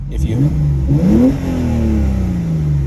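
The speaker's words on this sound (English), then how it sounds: "you may hear the exhaust making different sounds as we switch modes" A GTS sports car revs sharply twice in quick bursts, then the exhaust note drops into a long, falling drone as it settles.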